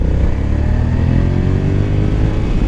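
The engine of a 2021 Honda Africa Twin DCT motorcycle drones loud and steady while it is ridden. The rumble is continuous and heavy in the low end, with rising engine tones and wind noise and no talking.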